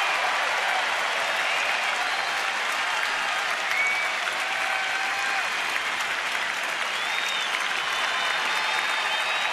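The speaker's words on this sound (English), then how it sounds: "Good crowd welcoming the boys back home." At a Colorado-at-Washington baseball game, the home crowd applauds the team steadily and loudly for the whole stretch, a dense wash of clapping with no break and no voices standing out.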